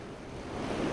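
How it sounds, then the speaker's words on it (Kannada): Floodwater of a swollen river during the Karnataka monsoon, rushing as a loud, continuous broadband roar that swells slightly toward the end, with no voices. "ನೋಡಿ ಆ ನೀರಿನ ರಭಸ ನೋಡಿ ಹೆಂಗಿದೆ ಅಂತ"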